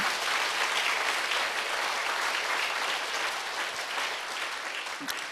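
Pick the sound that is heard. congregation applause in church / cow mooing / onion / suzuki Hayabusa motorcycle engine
congregation applause in church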